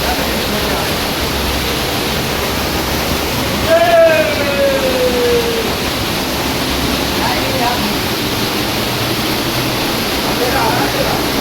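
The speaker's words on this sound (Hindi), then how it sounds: "ये देखो पानी ऊपर से पहाड़ों में से कैसे टपक रहा है" Guchhupani waterfall in Dehradun, water falling from the hills as a steady, loud broadband rush that fills the whole scene, with a brief whistle-like tone partway through and a voice talking over it.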